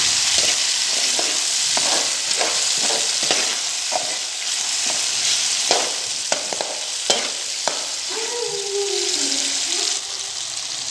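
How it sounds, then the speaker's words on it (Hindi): Tomatoes frying and being stirred in a pan while making aloo ki bhujia, a steady loud sizzle with frequent spoon scrapes and taps throughout, close up and without talk. "भून लेंगे।"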